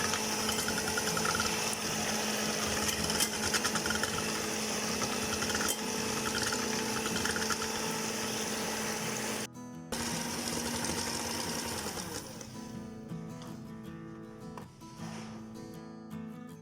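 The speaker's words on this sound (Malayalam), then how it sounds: "ഇനി നമുക്ക് 3 റൂം ടെമ്പറേച്ചറിലുള്ള മുട്ട ബീറ്റ് ചെയ്യണം." An electric hand mixer beats three room-temperature eggs for a chocolate cake, a loud, steady motor whir running throughout with a brief dip midway, then continuing more unevenly toward the end.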